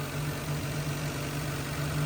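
A worn 1998 Geo Chevy Tracker engine idling at about 1,000 RPM, a steady low rumble with a faint hum and no talking.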